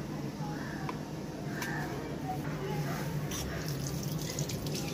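Water runs from a tap into a vessel at home, a soft, steady splashing rush heard faintly beneath people talking.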